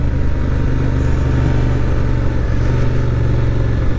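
A 2024 Honda Transalp motorcycle engine drones loud and close while riding off-road on soft ground, holding a steady, throaty hum with a constant low pulse and no pauses.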